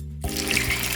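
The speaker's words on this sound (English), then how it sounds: "So you can use a serving spoon to pour it in." Thick bhajia batter is poured from a serving spoon into a pan, starting with a sudden wet sizzle that continues steadily and fairly loud, alone with no voice.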